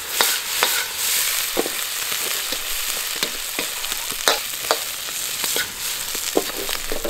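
Blanched chicken feet fry in melted hot pot base with Sichuan peppercorns and dried chilies in a wok, a steady close sizzle broken by irregular crackles and pops as they are stirred.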